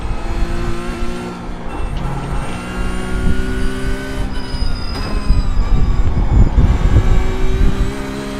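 A race car engine in a racing video game revs hard and steadily, loud and close, its whining pitch rising and falling with gear changes and some tire noise underneath.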